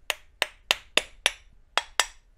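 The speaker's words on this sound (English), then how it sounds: "Now we just give it a little bit of a tap." Seven sharp, close taps knock loose the float bowl of a carburetor from an abandoned ATV, struck in a quick, slightly uneven rhythm with a short pause before the last two, no talking.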